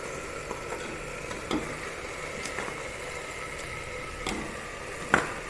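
Rice being stirred into spices in a pan for potato and egg pulao, a soft steady sizzle broken by a few sharp clicks and scrapes of the spoon against the pan.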